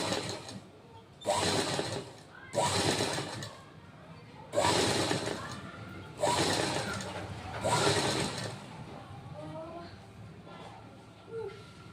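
A sewing machine stitches a prince cut blouse in short separate bursts of close mechanical whirring, about six runs with pauses between, while a person talks quietly throughout.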